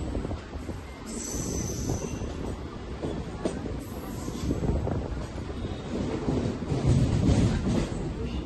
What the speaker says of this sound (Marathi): ट्रेनने गती पकडली